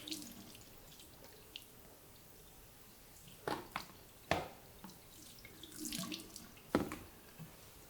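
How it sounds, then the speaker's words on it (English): Boiling water is poured over a kitchen sink faucet, splashing and trickling into the sink in several bursts of running water with quieter dripping between them; close and fairly soft, with no talking. "For the faucet, simply pour boiling water over the top of the faucet like this."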